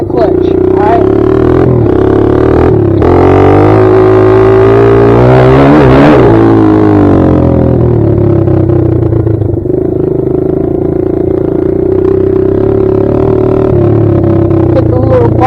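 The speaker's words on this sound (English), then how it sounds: "Give it some gas and dump that clutch" A Kawasaki KLX140 dirt bike revs hard as the rider dumps the clutch for a wheelie, a loud, steady engine drone rising to a strained peak midway before settling back to a sustained roar close by.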